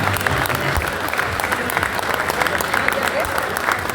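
Audience applause at a gourmet food event in Louhans, with loud continuous clapping from a crowd and voices mixed in underneath.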